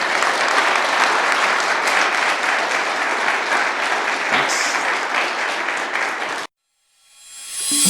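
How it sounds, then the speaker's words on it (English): An audience at an aerospace lecture applauds loudly and steadily for about six seconds, then the clapping cuts off abruptly into silence. "Round of applause, please."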